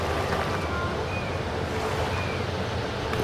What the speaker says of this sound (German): Da ist ein Wasserfall, da geht es steil runter.